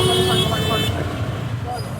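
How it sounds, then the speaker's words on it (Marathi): Congested road traffic at a signal with car horns honking in short toots over the steady rumble of vehicles, a voice talking over the din. "इतना ट्रॅफिक क्यों है आज?"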